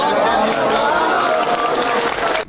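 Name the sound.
audience clapping loudly on request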